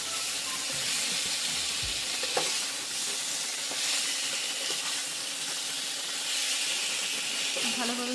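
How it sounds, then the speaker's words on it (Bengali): Potatoes frying with spices in rice bran oil for a vegetarian dum aloo give a steady loud sizzle and hiss, with occasional stirring scrapes throughout. "আর আলুটাও আমি দিয়ে দিচ্ছি, এখানে একটু কষিয়ে নিতে হবে।"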